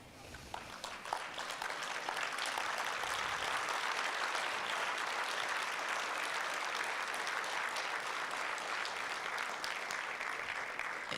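A conference audience on its feet claps in sustained, dense applause that swells in the first second or two and then holds steady and loud to the end, with no voices standing out.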